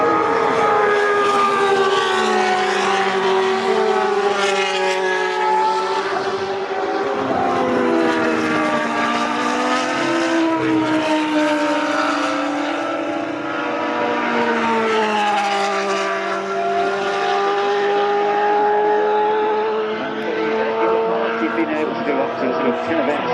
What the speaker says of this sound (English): Just looking at that Benetton there, the B190, the green machine, it's being driven by